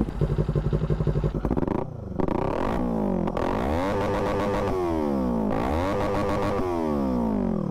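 A Kawasaki Z400 motorcycle with an aftermarket exhaust idles with a deep, throaty rumble, then revs up and down several times in loud, sweeping bursts.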